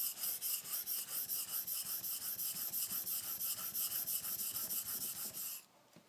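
Repeated rasping strokes of a Chartermade knife edge being sharpened along its curve, a steady back-and-forth scrape in an even rhythm, close and fairly loud, stopping just before the end.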